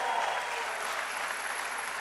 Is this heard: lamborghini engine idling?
no